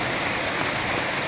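Rain falls steadily near a roadside tea shop, making an even, continuous hiss with no breaks. No one speaks.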